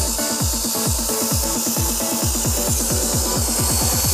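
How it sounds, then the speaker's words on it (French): A loud, steady mechanical whine from a saw cutting down through a piece of wood, with a rapid repeating rhythm and no voices. "Tu laisses la scie travailler."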